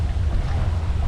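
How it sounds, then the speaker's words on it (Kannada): A boat motors toward the shore at Golden Island near Varkala, a loud steady low engine rumble mixed with heavy wind buffeting on the microphone. "ಬೋಟ್ ಬರ್ತೈತೆ ಈ ಕಡೆಗೆ"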